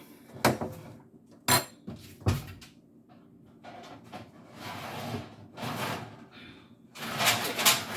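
A metal pan for oven-fried fish gets clanked and shuffled about in a kitchen, several sharp knocks and bumps at close range with rustling and softer handling sounds in between.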